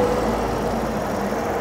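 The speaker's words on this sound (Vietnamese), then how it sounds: "máy nổ êm." A 2015 Hyundai Grand i10 with a 1.0-litre Kappa engine and automatic gearbox idles steadily and smoothly, a continuous low hum heard up close with no talking.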